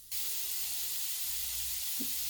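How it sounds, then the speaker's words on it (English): Water runs steadily from a kitchen tap to rinse a cutting board and knife, a constant close hiss of spray starting abruptly and continuing throughout, with one faint clink near the end. "I'm going to rinse my cutting board off and the knife"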